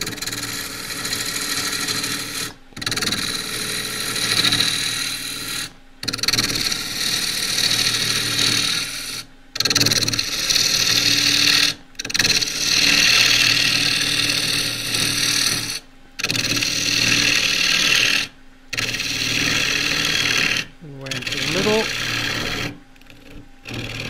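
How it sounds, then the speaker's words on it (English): A half inch spindle gouge cuts claret ash spinning on a wood lathe, a loud, continuous scraping hiss broken by short pauses, with someone talking over parts of it. "get rid of that first and use the half inch spindle gouge for that"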